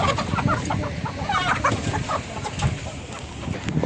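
Many chickens cluck and squawk continuously at the Sabunchu poultry market, a busy close-up chorus of overlapping calls with some background bustle.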